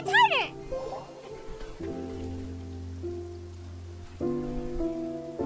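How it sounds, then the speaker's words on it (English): Rain falls in a Genshin Impact cutscene, a soft continuous patter beneath sustained music tones and characters' voices. "let's hurry before it rains harder!"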